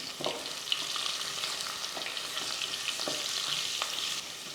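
Green chillies and a pinch of asafoetida sauté in a pan for a breakfast dish, a soft continuous sizzle with a few light scrapes of a spoon, fairly quiet and without voices.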